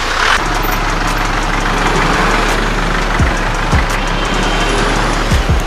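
A UM Scrambler 150 motorcycle engine runs steadily and loudly up close, a continuous low drone with a few sharp thumps and knocks near the end, with wind noise and no talking.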